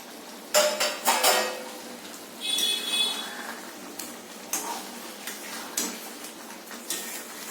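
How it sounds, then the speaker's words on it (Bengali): A pan lid lifted with a metallic clink, then chopped green chillies dropped into the pan while cooking egg beresta, followed by a string of light ticks and clinks of utensils against cookware, close and fairly quiet. "এবার ঢাকনা তুলে আমি কাঁচা লঙ্কা কুচিগুলো দিয়ে দিচ্ছি"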